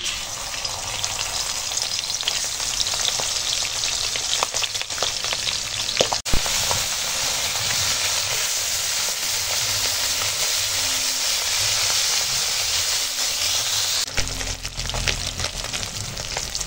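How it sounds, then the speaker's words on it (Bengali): Steady, loud sizzling of small hilsa fish frying in hot oil, continuous crackle throughout with a brief clatter partway through; no voices. "মাছ ভেজে দিচ্ছি, দেখো মাছ আছে, মাছ ভেজে দিচ্ছি"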